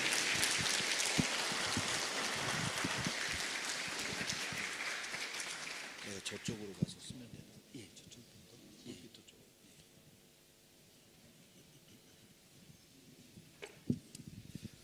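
A Sunday church congregation welcomes a guest pastor with applause, a dense patter of clapping that fades out after about six seconds, leaving a quieter room with scattered sounds and someone speaking.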